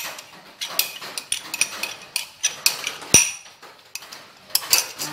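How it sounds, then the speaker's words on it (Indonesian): Bun dough mixture for steamed bakpao being stirred in a bowl, a utensil scraping and clinking against the sides in quick irregular knocks, close and fairly loud, with no talking. "Lalu ini diaduk kembali, dicampur lagi."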